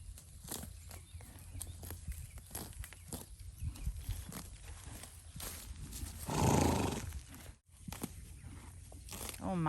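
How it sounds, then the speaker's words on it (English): A horse moves around on a farm with cows nearby, giving scattered soft hoof thuds and snorting noises close by, plus one louder rustling breath burst, with faint voices in the background. "Come here, Horsey"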